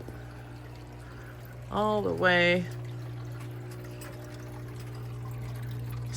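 Water runs from a garden hose into a sink in a steady, soft stream that continues throughout, with a short spoken phrase near the middle.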